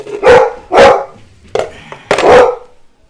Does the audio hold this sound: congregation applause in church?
no